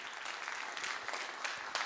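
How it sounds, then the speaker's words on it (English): An audience claps together at a church or motivational speaking event, a brief, even burst of moderately faint applause with no voices. "Somebody clap your hands like you're still unfolding."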